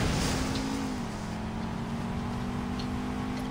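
Steady engine drone of a car in a street race in Saints Row, a continuous close whine and rumble that holds a fairly even pitch throughout.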